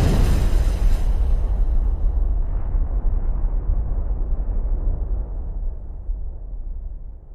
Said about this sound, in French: Les prémices d'explosions puissantes menacent de modifier la surface de la Terre.